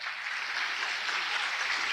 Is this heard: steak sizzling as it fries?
no